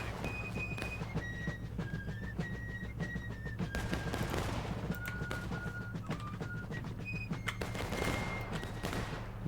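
Dense musket volleys crackle continuously across a historical battle video game, a steady mix of near and distant shots over a constant low rumble, with whistle-like tones sounding through.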